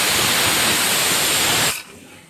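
Spices for tempering sizzle loudly in hot oil for chicken sukka, a broad steady hiss close by that cuts off abruptly near the end.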